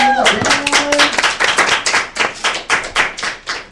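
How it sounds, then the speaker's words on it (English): Congregation clapping hands in praise at a church service, a dense run of sharp claps that stays loud and steady, with a brief voice and tones at the very start. "Get up out of the hand clap of praise."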